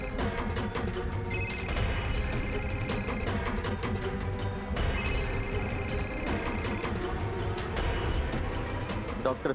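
A mobile phone ringtone plays loud and close in repeated bursts, a steady ringing pattern running through the whole stretch over a busy background.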